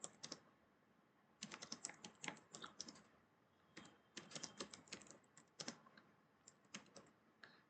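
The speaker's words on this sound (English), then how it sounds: "I'll just type it" Bursts of typing on a computer keyboard, fairly quiet and close, with quick clusters of key clicks separated by short pauses, no voices.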